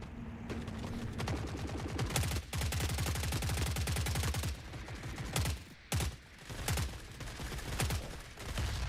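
Heavy, rapid weapon fire in the video game Forever Winter, with a grenade launcher among the guns: loud sustained bursts broken by a few brief pauses and sharp louder blasts.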